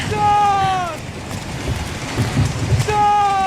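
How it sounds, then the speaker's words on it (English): Heavy rain in a GTA-style crime video game, a dense steady hiss of downpour with wind, joined by game music tones at the start and end. "the game starts off with heavy rain."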